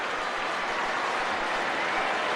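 Football crowd at a 1990 England versus Czechoslovakia friendly applauding a goal, a sustained wash of clapping from a large stadium audience, steady and fairly loud.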